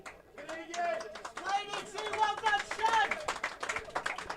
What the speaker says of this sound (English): getting a round of applause here from the fans up here in the balcony